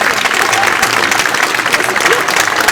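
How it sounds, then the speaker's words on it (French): Loud, close crowd applause at an awards ceremony, dense continuous clapping filling the room throughout, with a faint murmur of voices mixed in. "il va falloir que vous applaudissiez tous très fort pour qu'il arrive là"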